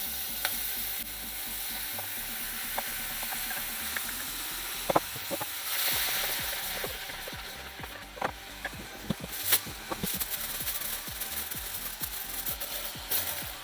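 Tomato and carrots cooking in a pan, a continuous close sizzle and hiss with scattered clicks and scraping knocks from stirring, steady throughout, with no talking.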